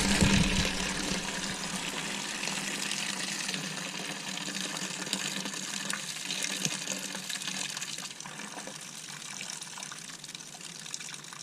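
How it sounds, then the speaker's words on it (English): RV antifreeze drains from a sprayer fitting into a bucket as a steady, continuous gush of liquid pouring close by, holding at an even level throughout. "we should dump the RV antifreeze straight into the bucket"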